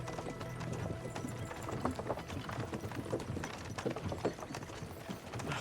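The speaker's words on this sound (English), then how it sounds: "don't you think maybe we could make the horses go a little faster?" Horse hooves clip-clop in a steady, uneven patter with creaking and rattling, like a cart rolling along, fairly close with no talking, in the video game Kingdom Come: Deliverance II.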